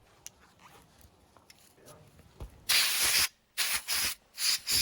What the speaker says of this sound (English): The air compressor.